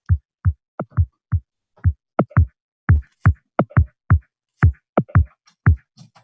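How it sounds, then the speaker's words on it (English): Dull, muffled kick and snare hits in a loose groove, thudding low and soft with the brightness filtered out, no other instruments. "it's literally just a kick and a snare with a low pass on it."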